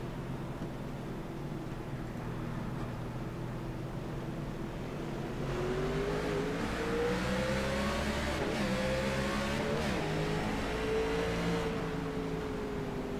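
Race car engines rumble from inside the car at a green flag restart in a Phoenix event, the low drone rising into a louder, climbing rev about halfway through, with shifting pitch and wind noise and no talking.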